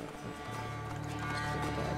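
Hoofbeats of a horse in the Assassin's Creed Origins video game, a soft rhythmic clip-clop building up over a steady low hum, fairly faint and close.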